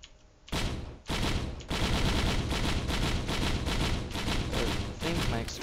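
Rapid, dense bursts of explosions and gunfire-like blasts from the Risk of Rain video game, loud and nearly continuous with brief gaps, no speech over them.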